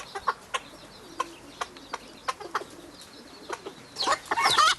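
A hen gives a series of short, high-pitched, duck-like squeaky calls at irregular intervals, ending in a louder burst of excited clucking and squawking nearby.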